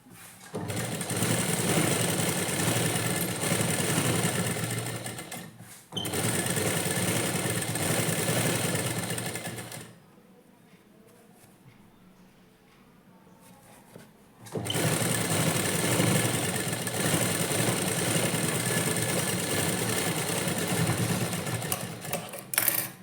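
A sewing machine runs steadily while stitching the lining of a blouse back piece, with a loud continuous whir that pauses for a few seconds midway, then resumes and runs to the end. No talking.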